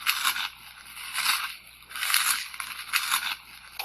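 A cartoon alligator eats with a crunching sound effect: loud, close, rhythmic munching and crackling bursts repeat about four times, with no voices.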